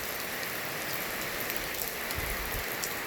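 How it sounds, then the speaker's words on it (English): Steady rain falls outdoors on a work site, a dense, even patter of drops on surfaces that continues without a break and with no talking. "as you can see, it's pretty rainy out here."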